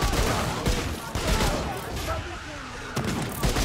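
Rapid bursts of gunfire in the video game Remnant 2, several sharp cracks in quick succession over a dense, noisy backdrop, with players talking over it.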